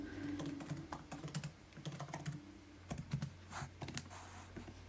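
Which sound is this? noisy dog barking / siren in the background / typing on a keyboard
typing on a keyboard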